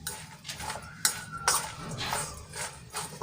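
Carrots are mixed with turmeric and salt in a bowl, giving soft clinks and scrapes of a utensil against the dish in short bursts. The sounds are quiet and irregular, with a voice talking faintly underneath.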